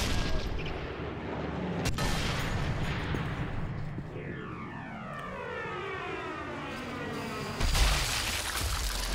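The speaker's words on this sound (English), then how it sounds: "Stop shooting at me, random guy I can't actually bloody see." Dense broadband combat din from Sniper Elite III, aircraft-like engine drone mixed with sharp gunshot cracks from an enemy, one strong hit near the start and another burst late, continuous and loud throughout.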